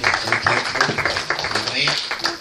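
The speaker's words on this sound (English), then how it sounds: "Let's give the teachers a hand clap." A congregation claps for Sunday school teachers at a church service, scattered hand claps of moderate loudness running under voices throughout.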